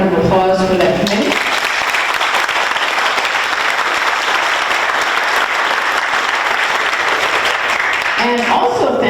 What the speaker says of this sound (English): A round of applause for that committee.